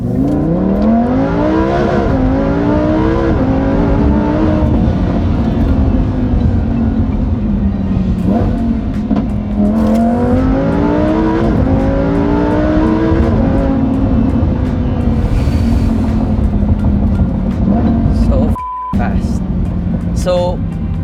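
A loud Lamborghini Huracan Evo engine revs repeatedly, pitch climbing through gears with a roaring, backfiring exhaust, heard close from inside the car over steady road noise.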